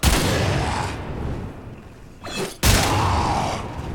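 Heavy blasts from the Redeemer Prime shotgun in Warframe, a loud boom at the start with a long fading tail, a short quieter stretch, then a second sharp blast that rings out again.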